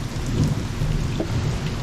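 Steady heavy rain with a low rumbling thunderstorm beneath it, loud and continuous throughout, with no voices present.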